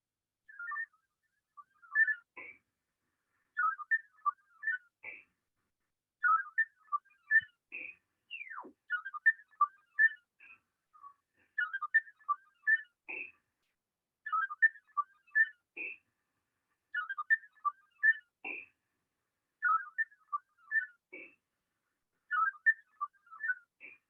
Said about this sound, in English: Let's see what Vara sounds like.